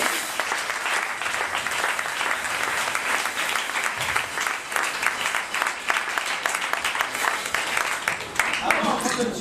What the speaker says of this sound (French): Acclamons très fort ici